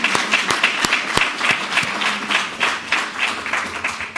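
Audience applause at a provincial hospital infrastructure announcement in Mississauga, steady crowd clapping with a few sharp, close individual claps standing out above the general patter.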